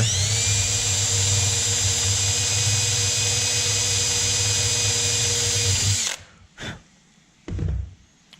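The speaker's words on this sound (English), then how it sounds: "I'm going to drill down a little bit further" A power drill bores out a rivet in an aluminium wing spar on a CriCri kit airplane build, running loud and steady for about six seconds before stopping, followed by two brief quieter bursts of drilling.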